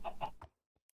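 A chicken in a video game gives two quick clucks and then a third, followed by a couple of faint clicks in near silence.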